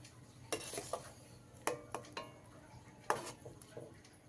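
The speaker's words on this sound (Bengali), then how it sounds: "সোয়াবিনটাকে তুলে নিয়ে জলের মধ্যে দিয়ে দেবো।" Boiled soybean chunks are scooped from a pot and dropped into water, giving a few light clinks of a utensil against cookware and soft splashy knocks spread unevenly over a few seconds, fairly quiet and close.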